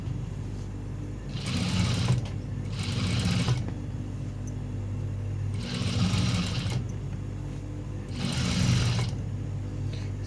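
A sewing machine stitches fabric in four distinct runs of rapid mechanical whirring, each lasting one to two seconds, separated by short pauses of quieter background hum.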